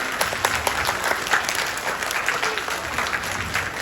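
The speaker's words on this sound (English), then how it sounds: "Let's give Ms. Jackson class a round of applause" Applause for a first or third grade class at a school pinning ceremony, a crowd of parents and guests clapping steadily and fairly loudly, with faint voices mixed in.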